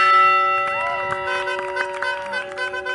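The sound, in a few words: bell rung by graduating students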